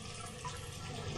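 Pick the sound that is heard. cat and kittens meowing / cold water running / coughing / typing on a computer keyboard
cold water running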